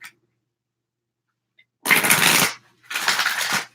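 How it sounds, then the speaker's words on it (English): Tarot cards riffle-shuffled by hand at close range, two brisk crisp bursts separated by a short pause, after near silence. "So one more shuffle."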